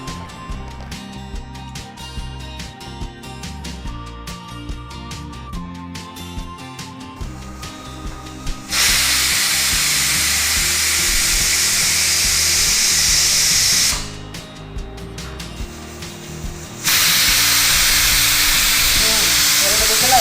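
A pressure cooker on a home stove vents steam while cooking dill bath, loud sustained hissing bursts that stop briefly and resume, following a stretch of kitchen noise and faint clatter.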